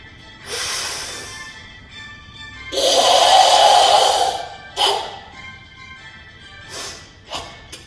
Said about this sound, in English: breathing was added in, it would sound like this